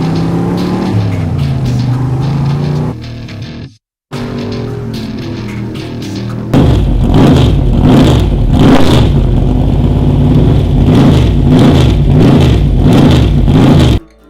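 A Chevrolet Camaro Z28 F-Bomb with a 5.7-liter V8 idles with a deep burble, cuts out briefly, then roars into loud, sustained revving with a pulsing, aggressive tone up close.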